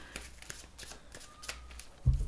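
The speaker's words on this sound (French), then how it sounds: "je vais tirer juste 3 cartes" Playing cards are drawn and shuffled up close in a series of crisp riffling flicks at a steady rhythm, ending in a low thump.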